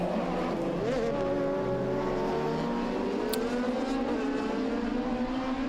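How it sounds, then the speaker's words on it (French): Rallycross cars race at Sosnova, including a Skoda Fabia and a Peugeot 208. Engines roar continuously and loudly, with revving that rises and falls and a steady mass of race noise throughout. "Tour en terre et va enfin trouver l'ouverture sur Kuchera pour passer 5e"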